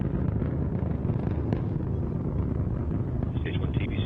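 Antares rocket engines at full thrust during a launch ascent: a steady, broad roar that fills the whole clip, loud and continuous, with a voice talking over it.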